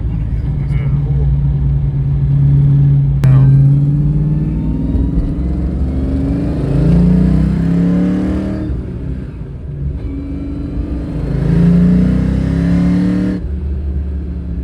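Foxbody Mustang with Pro M EFI pulling in fourth gear from around 2,500 rpm, a steady low engine drone that swells and eases in waves, heard from inside the car under ongoing conversation between occupants.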